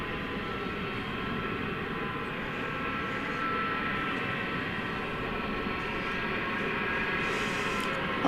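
A Qatar Airways Airbus A350-1000 bound for Doha roars past at DFW Airport at night, a steady, broad jet-engine drone that holds level and swells slightly near the end.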